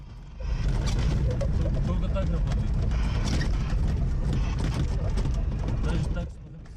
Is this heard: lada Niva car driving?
yes